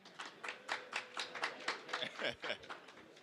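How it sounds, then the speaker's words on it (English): Scattered, uneven claps from a small audience at an entrepreneurship panel evening, a dozen or so sharp hand claps spread over a few seconds rather than a full ovation. "Can we get some more claps out there?"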